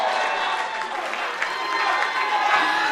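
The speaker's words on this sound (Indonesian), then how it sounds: "Kita berikan tepuk tangan yang meriah Bapak Ibu sekalian untuk kedua pasangan calon" Lively crowd applause at a public debate of mayoral candidates in Sorong, a dense, continuous roar of clapping with some cheering mixed in and faint voices underneath.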